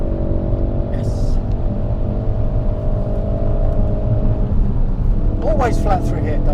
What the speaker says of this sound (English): Always flat through here, Dave.